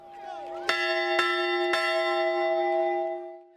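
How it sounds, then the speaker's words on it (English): A football team's victory bell rings after a win, three clear strikes spaced about half a second apart, each leaving a long, sustained metallic ring that hangs and slowly fades. "proud athletes ring the victory bell after wins"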